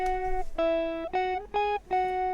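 Palm-muted electric guitar line pitched down an octave for a beat, playing short sustained chugging notes in four phrases with brief gaps, heard alone and up close.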